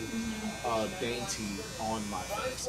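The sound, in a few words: razor buzzing during a shave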